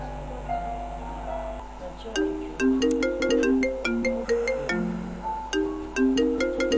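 A mobile phone ringtone plays a bright, repeating electronic melody of chiming notes, loud and close indoors, starting after a brief low hum and continuing steadily with no talk over it.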